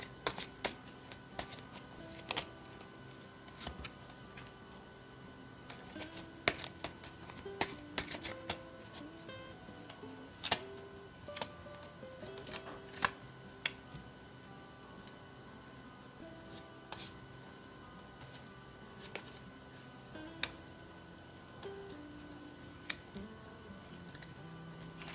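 Tarot cards are shuffled and laid out on a surface: scattered soft clicks, taps and slides come at an irregular pace against a quiet background.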